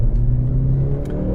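A Mercedes-AMG C63 S hybrid super saloon accelerating: a loud, steady, close engine drone with a rich low rumble, alone without talk.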